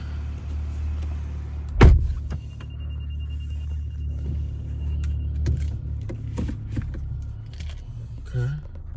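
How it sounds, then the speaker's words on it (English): A car is started up and driven, giving a low, steady engine hum inside the cabin, with a loud thump early on, scattered clicks and knocks, a sustained electronic tone and brief background voices. "Gonna get the car and drive it over."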